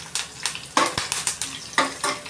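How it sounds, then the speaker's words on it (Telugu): Curry leaves crackle and spatter as they fry in hot oil for an Andhra-style sambar, a close run of sharp sizzling pops in quick irregular bursts with faint pan clatter. "ఈ కర్రపాకు తోటి చిటాపటా అంటుంది ఫ్రెండ్స్."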